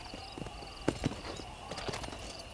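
Horse hooves clip-clopping in Red Dead Redemption, a handful of soft, irregular hoof strikes at close range over a low background hum.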